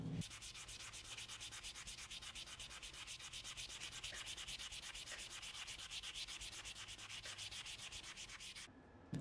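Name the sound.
polishing guitar frets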